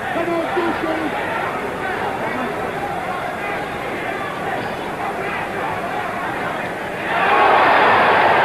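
A boxing arena crowd at a Muhammad Ali versus Ken Norton bout murmurs steadily under a commentator's talk, then swells into a louder roar near the end.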